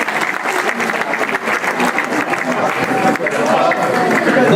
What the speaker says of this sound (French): Donc on va applaudir ces personnes.